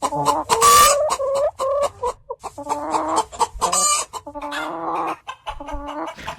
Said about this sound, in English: 3 French hens. This is what they sound like.